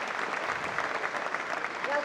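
An audience claps steadily at a British Open squash match, a sustained patter of applause heard from a distance, fairly faint, with a voice briefly audible near the end.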